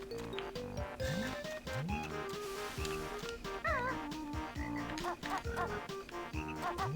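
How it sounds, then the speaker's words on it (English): Frogs in the Banjo-Kazooie swamp level croak in a steady repeating rhythm, with several other game creatures and looping swamp music playing continuously and loudly throughout. "And there's another frog over there."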